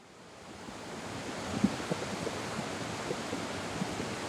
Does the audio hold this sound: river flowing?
yes